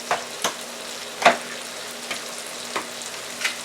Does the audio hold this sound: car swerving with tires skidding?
no